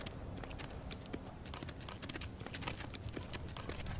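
Horse hooves clip-clop on a hard surface near the town square, a quick irregular run of sharp knocks over faint background noise.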